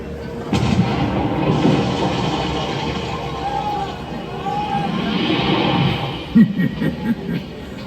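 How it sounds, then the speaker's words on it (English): A deep boom of a cannon blast rings out amid a busy, noisy background of crowd babble and rumble at a pirate-themed attraction in Magic Kingdom, followed by a few sharper bangs near the end. "Ready the cannon! Fuego!"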